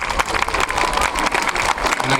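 Applause for Laurent at a September 2018 gathering around a Marne taxi, broadband and continuous for the whole stretch, fairly loud and close, with voices mixed into the crowd.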